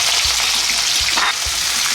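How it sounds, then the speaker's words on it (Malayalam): Chopped onions hit hot oil in which mustard seeds have already popped, cooking for Kerala-style beef mappas: a close, steady, hissing sizzle with a few soft low thumps from stirring, and no voices. "അരിഞ്ഞ് വെച്ചിരിക്കുന്ന സവാള നമ്മൾ കടുക് പൊട്ടിയതിന് ശേഷം ഇതിനകത്തേക്ക് ചേർക്കുകയാണ്."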